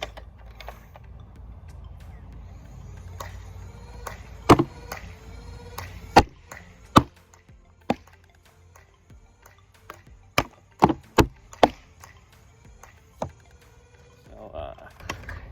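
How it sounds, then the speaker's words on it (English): Dart Zone Pro MK3 toy blaster running on AA batteries fires full-length foam darts in a string of sharp, loud pops at irregular intervals, with faint mechanical noise and some talk in between. "I'm firing with full darts and AA batteries."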